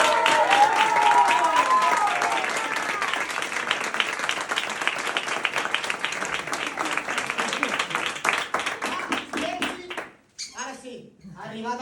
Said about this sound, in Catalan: espero que tothom li fem un gran aplaudiment